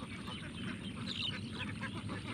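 Ducks let loose in an open field quack in short, faint bursts over a low background murmur.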